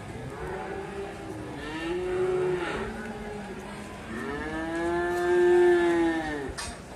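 Young Simmental cattle moo nearby, two drawn-out calls with the second longer and louder, over faint background noise.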